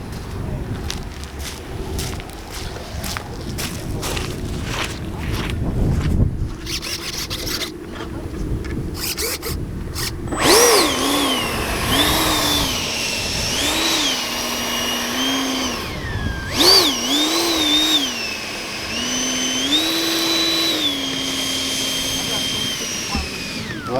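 A Freewing A-6 Intruder 80mm EDF radio-controlled jet flies overhead, starting with rough gusty rumble and then a sustained whining turbine-like tone that rises and falls in pitch as it passes, loud and fairly close.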